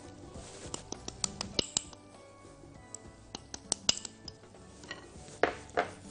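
A utensil stirring cocoa into orange marble cake batter in a bowl, with light irregular clinks and soft scrapes, fairly quiet, with no voices.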